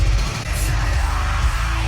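Harsh screamed metal vocals from a song ring out loud and sustained over heavy, pounding low-end instrumentation, with driving rhythmic bass hits underneath.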